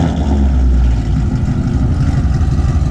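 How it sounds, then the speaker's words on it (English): A car fitted with Texas Speed long tube headers and a Corsa X-pipe exhaust idles loudly and close, a deep, rough, continuous engine rumble with a lumpy pulsing throb and no talking. "gonna start my car for me"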